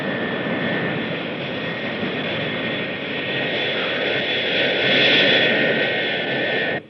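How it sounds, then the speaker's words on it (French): A 1960s airplane in flight gives a loud, steady engine drone with a high whine, swelling slightly near the end before cutting off abruptly, with no talking. "Jason, tu n'es pas Mark Kane, tu ne vas pas essayer de poser cet avion?"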